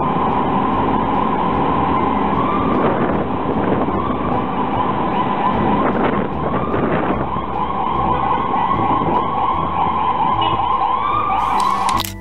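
Ambulance siren wailing loud and close in street traffic, a continuous rising and falling tone that holds throughout over engine and road rumble.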